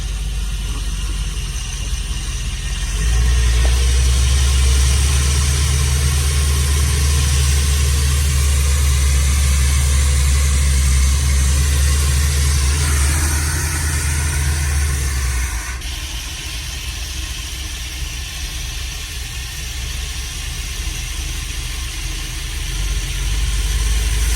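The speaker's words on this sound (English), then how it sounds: "See if we can get her idling for a second here." Engine of a free motorhome idling after priming, a heavy low rumble that starts a few seconds in, holds steady and close for about twelve seconds, then drops away, leaving fainter mechanical hiss and background noise.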